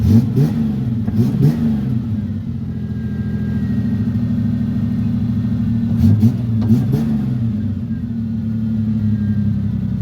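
An enduro race car engine revs repeatedly while driving, rising and falling in pitch in loud, close bursts over a constant low rumble, with short clattering noises and a faint voice in the background.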